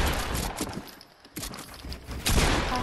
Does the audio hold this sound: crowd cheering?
no